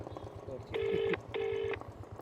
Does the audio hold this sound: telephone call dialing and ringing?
yes